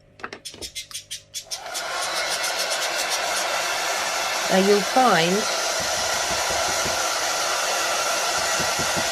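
Hair dryer blowing to dry sealer on a decoupaged slate coaster, starting after a few sharp knocks and then a constant loud whooshing roar, with a voice talking briefly over it.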